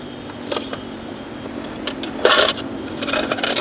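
Metal coins spill out of a container in a string of sharp clinks, scattered at first, then a denser rattling cluster midway, close and clear with no talk.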